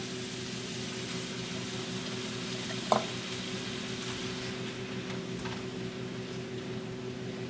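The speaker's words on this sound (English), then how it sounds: "now we're going to add our can of fire roasted tomato" A can of fire-roasted tomatoes goes into a pan of sizzling beans and sausage: a steady, quiet frying hiss with one sharp clink and splash partway through.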